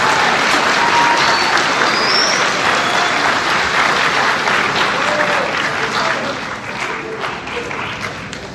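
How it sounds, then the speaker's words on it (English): Sustained applause from an audience at a school Veteran's Day assembly, honoring the honeybees, holding loud and steady before thinning slightly toward the end. "Put a round of applause to our honeybees."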